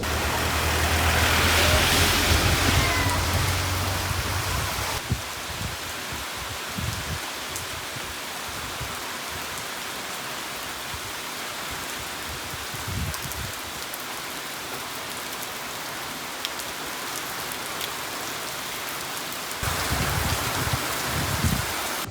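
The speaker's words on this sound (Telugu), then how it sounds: "ఏరులు సెల ఏర్లు అయి పారేలా కొట్టేయింది వర్షం" Heavy, sudden rain pours down on an open roadside with no shelter nearby, as a dense steady hiss with louder bursts at the start and end.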